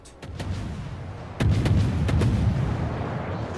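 Heavy booming anti-aircraft gunfire in World of Warships, in rapid bursts, a steady low rumble of shots that grows louder partway through, with no speech.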